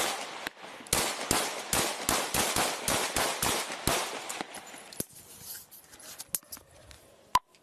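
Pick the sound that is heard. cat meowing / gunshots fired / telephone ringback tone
gunshots fired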